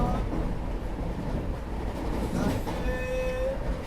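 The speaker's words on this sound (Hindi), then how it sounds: "फ्लैट 130 की रफ्तार में फ़िलहाल अपनी ट्रेन चल रही है।" The Bihar Sampark Kranti Express running at 130 km/h past Khurja Junction, heard from inside as a steady, dense rolling rumble, with a brief horn sounding toward the end.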